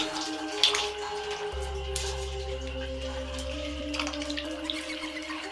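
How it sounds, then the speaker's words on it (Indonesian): Shower tap running water indoors, a steady low rush with faint drips and splashes, then a tap turned and the water flow changing partway through; continuous and fairly close. "aku coba kembali beranikan diri lagi untuk masuk dan buru-buru ku matikan keran shower itu"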